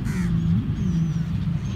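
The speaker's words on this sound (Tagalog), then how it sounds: "Ang dami talagang ibon guys." Harsh crow caws ring out close by at Umm Suqeim Beach in Dubai, a couple of rough calls in quick succession against a low background rumble.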